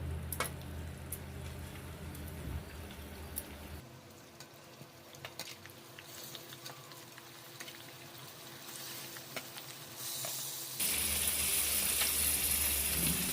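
Washed fish pieces fry in hot oil with masala, giving a soft, fairly quiet sizzle that shifts in texture midway and grows brighter and louder near the end, with no one speaking.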